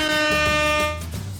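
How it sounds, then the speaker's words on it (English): A car horn sound effect from a children's read-along story: one loud, sustained, brassy honk that holds steady before dropping into a lower tone as it fades. "Honk."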